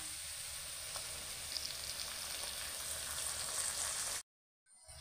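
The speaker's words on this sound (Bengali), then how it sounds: "ব্রাউন করে পেঁয়াজটা ভেজে নিতে হবে" Browned onion frying with freshly added ginger-garlic paste gives a steady, close sizzle that runs unbroken for about four seconds and then cuts off abruptly.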